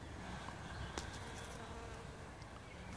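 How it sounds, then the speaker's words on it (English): Bees work the blossoms of a Bountiful apple tree in an allotment orchard, a steady low hum with outdoor ambience and one brief sharper tick near the middle. "you see that beautiful bees enjoying that. Lovely bee working for me."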